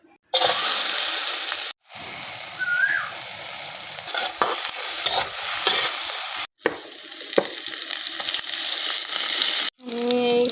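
Chopped onion, green chillies and cumin fry in mustard oil while being stirred, a loud close sizzle with scraping strokes, cut by short silences between segments.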